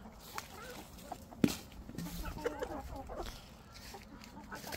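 Backyard garden chickens clucking faintly as feed is thrown to them, soft scattered calls over a quiet outdoor background with a brief louder knock partway through.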